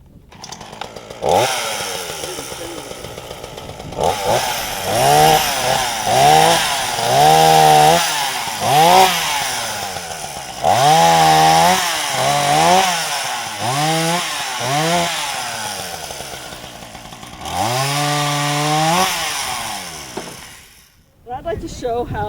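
A chainsaw runs at an outdoor Firewise wildfire-preparedness event, revving up and down in repeated loud bursts with rising and falling pitch for about twenty seconds before cutting off near the end.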